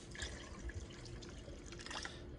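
Water poured from a can into a cooking pot for an Italian dish, a quiet brief splash and trickle of liquid close by, soft and short with no voices.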